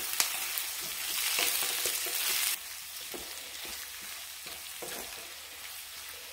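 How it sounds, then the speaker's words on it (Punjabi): Potatoes for aloo methi sizzling in hot oil in a pan, a bright hiss that drops abruptly partway through, with repeated spatula scrapes and clicks as they are stirred. "2 ਮਿੰਟ ਤੱਕ ਆਪਾਂ ਇਹਨੂੰ ਫਰਾਈ ਕਰਾਂਗੇ ਆਲੂਆਂ ਨੂੰ।"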